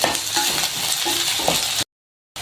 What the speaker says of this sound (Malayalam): കുറച്ച് കറിവേപ്പിലയും ഇട്ട് കൊടുക്കാം നല്ലതുപോലെ ഒന്ന് മൂത്ത് വരട്ടെ